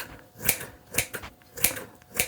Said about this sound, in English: I'm going to go ahead with my kitchen scissors, and I'm going to go ahead and chop it down into pieces